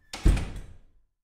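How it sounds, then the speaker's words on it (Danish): A door swings shut in a storybook setting, giving one solid thump followed by a short rattling decay, fairly close and alone with no talk. "Lad os lukke døren, så den ikke kommer herind, sagde bedstemoren."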